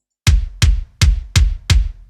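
Five heavy kick drum hits, a GGD kick layered with a very thick one-shot, struck in a steady rhythm about every third of a second, loud and close with a booming low end and a sharp attack.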